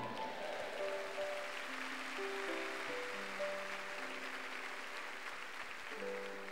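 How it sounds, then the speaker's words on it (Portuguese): Worshippers applaud at an evangelical church service, a soft, distant wash of clapping beneath sustained keyboard music that carries through the whole stretch. "aplauda o Senhor Jesus"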